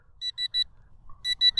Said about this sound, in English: as soon as the voltage alarm came on